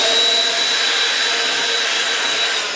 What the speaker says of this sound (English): great little tool we got is the Flex blow dryer